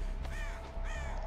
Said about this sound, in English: pissed off a bird